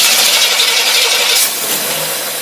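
Engine fitted with a Holley teapot carburetor starting up, a loud close rattling roar that settles quickly into a steady idle, with no voices.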